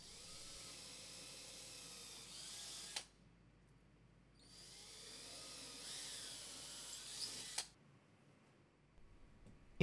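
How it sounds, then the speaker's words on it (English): A power drill bores pilot holes into a wall for dispenser fasteners, two whining bursts of about three seconds each with a short pause between them, close and fairly quiet. "Then drill the holes for the fasteners using the marked holes."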